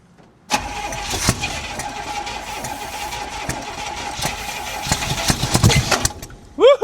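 An old $200 Cadillac that sat for 27 years cranks and catches, its engine rumbling into a rough, uneven idle up close, with a brief voice at the end.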